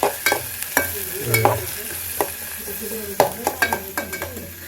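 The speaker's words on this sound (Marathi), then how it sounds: "कांदा थोडा ब्राऊन होईपर्यंत परतून घ्यायचा आहे" Onions sizzle as they are stirred until brown in a pan over a wood-fired clay stove, with repeated close, loud scrapes of the spoon against the pan over a steady hiss.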